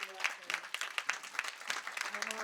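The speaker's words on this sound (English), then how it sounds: "If you could all just give my mother a round of applause." Scattered applause from a luncheon audience at an International Women's Day event, honoring a speaker's mother; individual claps stand out in an uneven, moderately quiet patter with some voices underneath.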